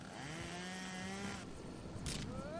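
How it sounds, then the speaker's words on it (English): A chainsaw revs in the cartoon game Henry Stickmin Collection, its buzzing engine whine rising and falling over a couple of seconds and cutting off sharply, loud and close with no voices. "Chainsaw."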